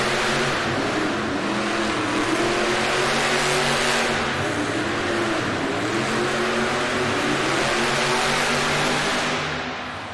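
Monster trucks racing at a Monster Jam arena event in Worcester, MA: a loud, sustained engine roar with rising revs that fills the space without a break, then eases slightly at the end.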